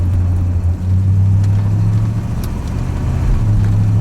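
A Corvette engine idles and runs before a highway drive, a loud, steady low rumble with a constant drone and slight fluctuations, heard close and without talk.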